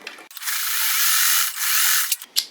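A sewing machine stitches quilt pieces, a brief high-pitched mechanical buzz that runs steadily for about two seconds with short breaks near the end.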